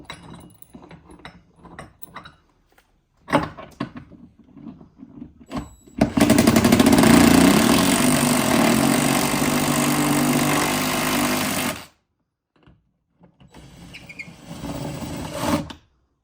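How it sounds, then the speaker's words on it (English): A power drill drives a screw into a wall while a StackTrax organizer is mounted, a steady loud whirring for several seconds after light handling clicks, then stopping, with a brief second burst near the end. "I'm slowly gonna put in my second screw."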